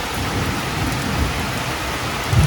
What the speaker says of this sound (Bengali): দেখুন কি পরিমাণ বৃষ্টি হচ্ছে এই যে দেখছেন যেমন বিদ্যুৎ চমকাচ্ছে